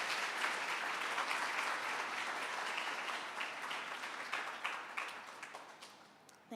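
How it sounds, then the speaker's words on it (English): A school audience at an academic awards and 7th grade graduation gives a round of applause, sustained clapping that gradually thins out toward the end. "I think we can give Mr. Kanji another big round of applause."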